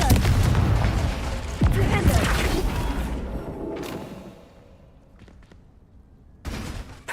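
A Confringo fire spell goes off in Hogwarts Legacy: a loud, booming blast with a heavy rumble that fades over several seconds, then a quieter thump near the end.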